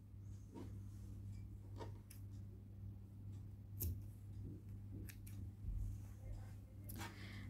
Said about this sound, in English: Cut the extra yarn from here.